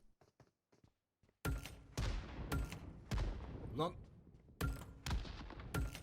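Several loud, booming blasts from bombs in PUBG Mobile burst one after another, each trailing into rumbling decay, after a few soft clicks in near silence.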